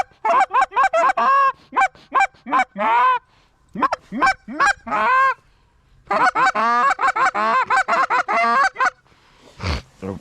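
Geese honk loudly as they fly overhead during waterfowl season, a dense run of repeated honks in two long bursts with a brief gap between.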